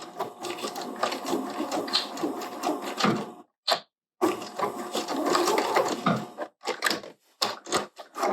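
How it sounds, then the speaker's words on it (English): A sewing machine runs in bursts while backstitching along quilt binding, a steady mechanical chatter of needle strokes broken by short pauses and a few quick stitches at the end. "So I'm going to backstitch."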